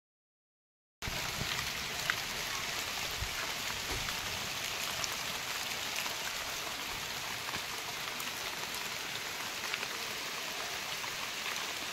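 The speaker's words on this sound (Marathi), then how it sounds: "हे बघा पाऊस पडत आहे" Steady rain pours outside a house, a dense continuous hiss that starts abruptly after a second of silence and holds at even strength throughout, with no voices.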